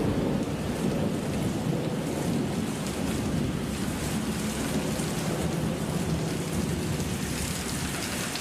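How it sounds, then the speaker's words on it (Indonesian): Heavy rain pours down at night in a constant, loud roar of dense drops, with low thunder rumbling underneath and no voices present. "hujan turun begitu deras"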